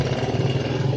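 Engine of a Yamaha Vega ZR underbone motorcycle revved with the throttle, a steady close buzzing drone held for about a second.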